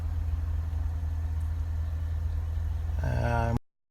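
A Lexus IS car engine idles steadily for several seconds, a low continuous hum that stays level before a brief tonal chime-like sound rises near the end and cuts off.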